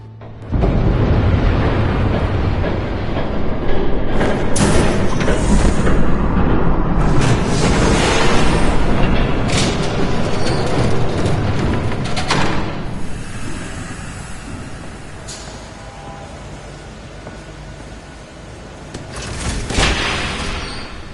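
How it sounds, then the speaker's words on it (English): A train thunders past in the Batman Telltale video game, a loud, dense rumbling roar with rattling clatter that dominates the first half and slowly eases into a lower, fading rumble. "There's a train coming."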